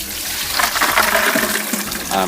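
Soaked chickpeas being drained and rinsed, a steady stream of running water splashing for a couple of seconds, loud and close, with a brief surge near the end.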